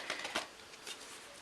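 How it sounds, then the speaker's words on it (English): Tarot cards shuffled by hand, quiet close riffling with a few quick flicks and soft papery bursts, alone without talk. "You guys can hear me shuffling and I'm cutting"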